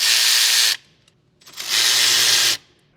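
Ratchet loosening two 8mm bolts that hold the front wiring harness on a 2026 Ford 6.7L diesel during an EGR upgrade install, heard as two loud, rapid, buzzing ratchet runs separated by a short pause.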